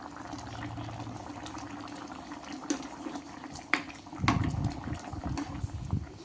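Eggplant and canned fish curry bubbles in a pot, a low steady simmer with a faint hiss, then a louder burst of boiling and stirring near the end.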